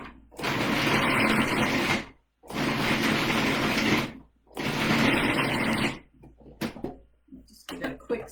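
A food processor grinding cranberry salsa ingredients in a home kitchen runs in three loud, sustained pulses of about one and a half seconds each, separated by brief pauses, followed by softer clattering as the machine stops.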